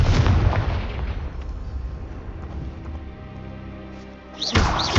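A Confringo fire spell detonates in the video game Hogwarts Legacy with a loud, booming blast and a long rumbling decay, followed by a second sharp burst near the end.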